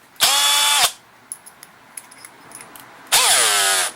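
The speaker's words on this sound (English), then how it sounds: "We're going to drill through the frame, nice and slow" Two loud bursts of a power drill whirring up and winding down as it drills slowly through the metal frame of a Craftsman 179cc snow blower, separated by a pause with faint clicks and taps.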